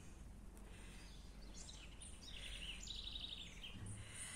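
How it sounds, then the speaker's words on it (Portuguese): Birds chirp and tweet in a tree at a countryside park hotel, bright, scattered calls and short trills overlapping at moderate distance against a steady outdoor background hum, with no talking. "Já pensou acordar todo dia com esse barulhinho bom dos pássaros?"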